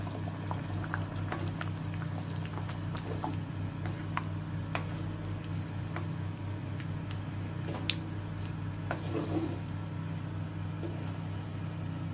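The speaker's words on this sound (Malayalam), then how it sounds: "കറി 10 മിനിറ്റ് കുറഞ്ഞ ചൂടിൽ വേവിക്കുക." Chicken cashew curry simmering on low heat in a pan, a soft continuous bubbling with scattered small pops and ticks over a steady low hum, fairly quiet and without any talking.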